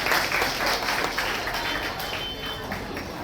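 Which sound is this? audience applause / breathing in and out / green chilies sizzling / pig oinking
audience applause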